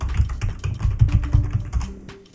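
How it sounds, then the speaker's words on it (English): Fingers type a password on a computer keyboard during a Manjaro Linux setup, a quick close run of a dozen or so crisp key clicks in a steady rhythm, alone. "type your password in"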